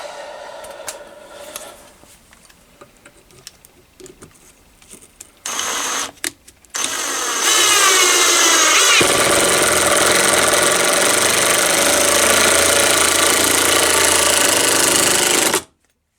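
A Parkside 20V impact driver sinks a screw into plywood. Short bursts and rattles come first, then a long loud continuous hammering run that stops abruptly at the end.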